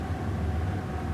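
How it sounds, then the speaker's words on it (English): A train passes close by with a loud, steady, heavy rumble and broad roaring noise that fills the whole moment without a break. "sorry about that train, it sounds very, very loud."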